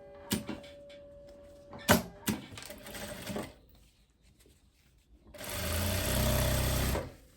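Sewing machine stitching the waistband of a faux leather midi skirt, with short bursts of running stitches early on, then a sustained loud run of stitching near the end, separated by quieter handling pauses.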